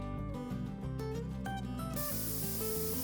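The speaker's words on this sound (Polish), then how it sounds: "Pokryj srebrną farbą w sprayu." Silver spray paint hisses from an aerosol can onto a baked clay piece in a sustained spray, with music playing over it.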